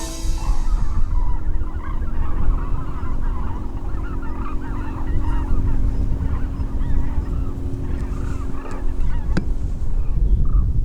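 A flock of hooded cranes calls across the wintering mudflats and reed beds of Suncheon Bay, a continuous chorus of overlapping honking cries, loud and near, with no talking.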